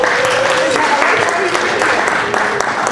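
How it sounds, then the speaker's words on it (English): A round of applause from the crowd at a peace walk against gun violence, steady dense clapping throughout with voices mixed in. "Please get a round of applause"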